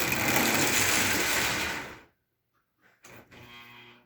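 An Ives 3254 toy train locomotive runs again after its reversing lever is flipped, with a dense whirring mechanical rattle that stops abruptly, then a short silence and a restarting motor hum with clicks.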